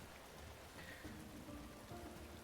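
Heavy rain pours steadily in the video game Paleo Pines, a dense continuous hiss of drops on surfaces at an even level throughout, with no voices.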